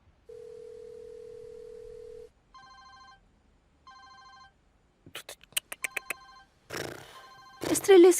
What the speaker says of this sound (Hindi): स्त्रीलिस्की का फोन आ रहा है।